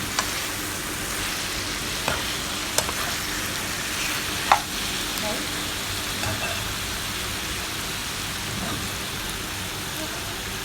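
Chicken feet coated in Mama Sita's sauce sizzle steadily in a pan while being stirred, a constant close hiss with occasional light utensil taps, no one speaking.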